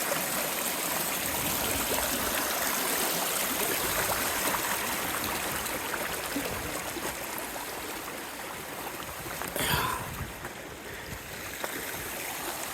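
Creek water flows steadily along a stretch of the Appalachian Trail as a hiker crosses, a broad, constant rushing wash with no talking and a brief brighter splash or scrape partway through.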